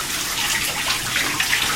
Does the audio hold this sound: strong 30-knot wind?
no